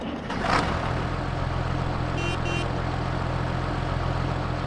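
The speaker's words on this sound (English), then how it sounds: "gonna get on the tractor now, crank it up." A farm tractor engine cranks and fires, then settles into a steady, loud idle with a low droning rumble and a brief pair of high beeps partway through.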